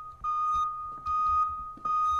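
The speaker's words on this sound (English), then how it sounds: "Fire alarm? Smoke alarm?" A smoke alarm in a video game sounds off with loud, piercing electronic beeps, three long repeated tones with short gaps, alone and close with no voices.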